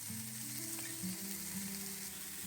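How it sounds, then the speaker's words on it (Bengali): Chopped tomato sizzles as it is added to frying spices in a pan for a raw banana kofta curry, a faint, steady crackling fry with some soft stirring and a low background tone. "এবার এতে আমি দিচ্ছি টমেটো কুচি,"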